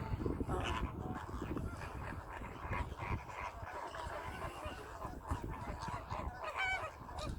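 Flock of flamingos in the UAE, a dense chorus of honking, goose-like calls overlapping continuously at moderate distance, with occasional louder nearby cries and faint talk in the background.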